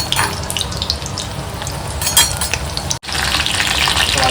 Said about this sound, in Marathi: त्याच्यामध्ये लसूण आणि मिरची टाकलेली पहिली.